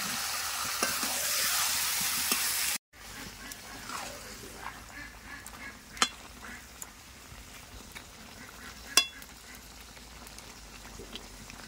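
Chicken curry being stirred in a pot once the lid is lifted: a loud burst of sizzle at the start, then a pause and quieter scraping and clinking of the spoon against the pot with occasional sharp knocks.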